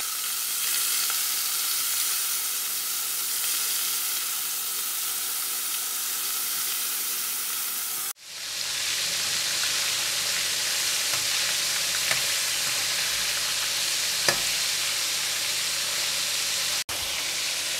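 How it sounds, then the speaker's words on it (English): Loud, continuous hissing sizzle of prawns deep frying in hot oil, briefly cut off midway then resuming, with a couple of faint clicks. "And deep frying should be very fast because"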